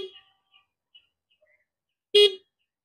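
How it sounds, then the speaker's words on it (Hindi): Small horn of a Honda Activa 125 scooter gives one short, sharp honk after a few faint background sounds, close and loud, with silence after. "इसके साथ में ये एक हॉर्न है छोटा सा।"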